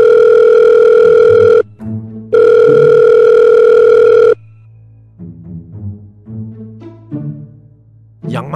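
A telephone ringback tone sounds while a call is placed, two loud, long tones separated by a short pause, followed by quieter, softer tonal sounds.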